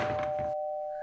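A doorbell chime rings once and holds as a steady, fading tone, following a brief dull knock-like noise.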